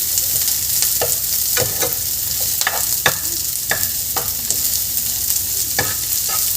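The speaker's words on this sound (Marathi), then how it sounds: "इथे मी 1-2 मिनटं छान परतवून घेते याला" Chopped onion sautés in a pan for spinach soup: a steady sizzle runs underneath while a spatula scrapes and taps through it in irregular strokes, near and moderately loud.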